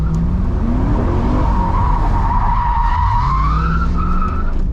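Tires of a 2002 Pontiac Trans Am WS6 with traction control off screech loudly through a spin, a sustained wavering squeal over the engine's low roar, close and alone.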